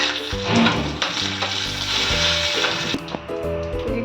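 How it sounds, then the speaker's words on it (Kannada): Garlic, curry leaves, mustard seeds and cumin seeds sizzle steadily in hot oil for beetroot rasam, a close, continuous frying crackle with a few clinks and stirring sounds and no talk. "ಬೆಳ್ಳುಳ್ಳಿ ಕೆಂಪಾಗ್ತಾ ಇದೆ. ಇದಕ್ಕೆ ಕರಿಬೇವಿನ ಸೊಪ್ಪು, ಹಾಗೆ 1 ಚಮಚ ಸಾಸಿವೆ,"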